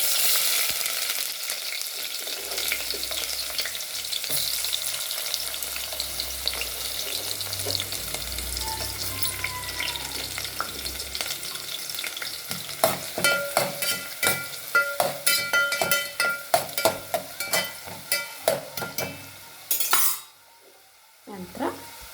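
Onions frying for a simple pulao hiss with a steady close sizzle, then a spatula stirs them in quick scraping strokes against the pan before the sound cuts off.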